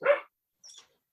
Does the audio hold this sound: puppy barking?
yes